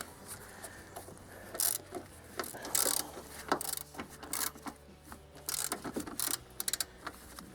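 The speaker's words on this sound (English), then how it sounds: "On top here we have some 15mm bolts, and so we're just going to loosen these guys up." A ratchet clicks in quick irregular bursts as 15mm strut bolts are loosened on a Dodge Avenger front strut assembly, faint and close in a quiet garage.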